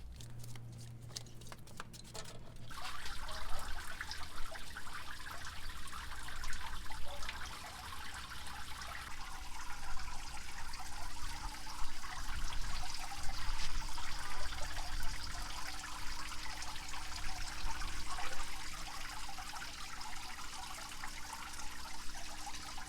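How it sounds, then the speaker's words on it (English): Steady trickling water from a garden water feature in a front entryway runs continuously throughout, a soft constant splashing flow nearby, with a brief clicking at the start. "let's see how this water feature is gonna sound here in the front entryway"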